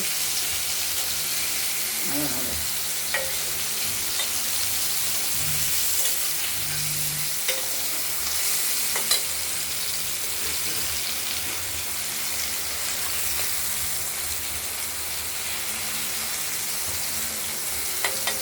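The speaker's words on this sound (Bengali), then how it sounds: "পটলগুলো ভাজতে ভাজতে অনেকটাই নরম হয়ে আসছে" Pointed gourd (potol) slices fry in a pan in a steady, close sizzle lasting throughout, with occasional clicks and scrapes of stirring and faint low bubbling underneath.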